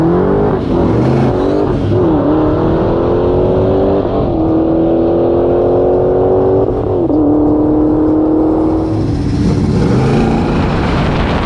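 A 760-horsepower GT500 roars hard down a quarter-mile drag strip, its engine note loud and close, climbing steadily through the gears with brief dips at each shift.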